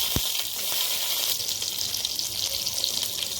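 Cinnamon stick and chopped green chillies frying in hot oil for a fish curry, a steady bright sizzle with a few soft stirring clicks, close and continuous.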